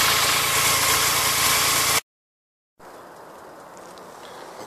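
A BMW K75 motorcycle engine idling after a cold start, its steady mid-range hum running loud and close for two seconds, then cutting off briefly before a quieter, more distant engine drone returns.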